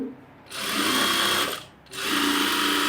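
A sewing machine stitching a chudithar runs in two loud, steady bursts, each a dense whirring buzz, separated by a short pause and with no talk over it.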